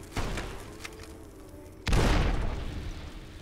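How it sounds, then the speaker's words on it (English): A dynamite blast in Fallout: New Vegas booms out suddenly and loud, a single heavy explosion that rumbles and decays over the following second or so, preceded by quieter combat noise. "I gotta throw dynamite at this guy"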